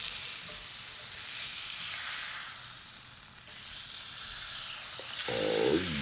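A ribeye steak sizzles in butter in a hot pan, a close, steady hiss and crackle with no let-up, swelling slightly louder toward the end.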